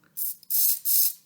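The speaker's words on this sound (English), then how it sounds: "with a spray here and a tss there" A spray bottle pulled from a mystery sound bag gives three quick hissing squirts, the first short and the next two longer, close and fairly soft with no talking.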